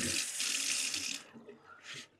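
Water pours noisily into a pot to rinse sweet potatoes, then stops briefly before a shorter splash of rinsing water, close by and steady.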